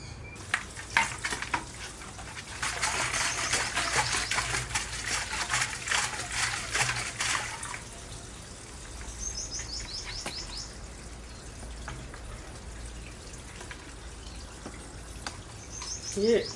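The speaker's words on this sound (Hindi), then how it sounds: "ये अच्छी तरह से इसको हिला दिया है, तो अब ये तेल और पानी ये एक दूसरे में मिल गए हैं" A bottle of soap, oil and water is shaken hard, giving a rapid liquid sloshing rattle for several seconds before easing off, with birds chirping outdoors in the background.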